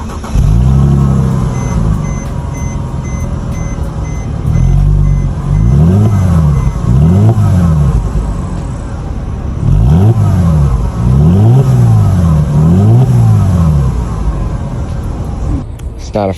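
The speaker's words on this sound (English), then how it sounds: "Doesn't sound too good. Exhaust is not nowhere near loud." A Mercedes-Benz C300 on its quiet stock exhaust revs in repeated blips, several short rises and falls in pitch that come in pairs and groups over a steady idle, fairly close and moderately loud.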